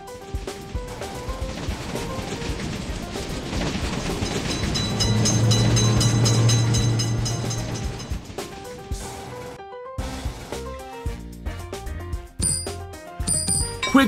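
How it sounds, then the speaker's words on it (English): Train approaching a level crossing in an Indian train simulator video game, with a steady rumble and clatter rising then fading, accompanied by repeated electronic bell-like chimes and tones that continue after the train passes. "Attention, train is coming."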